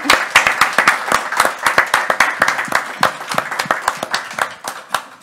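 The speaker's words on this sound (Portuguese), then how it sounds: "pedi uma salva de palmas" An audience claps at a talk, with sharp individual handclaps in a quick, uneven rhythm, close and fairly loud, with no voices over them.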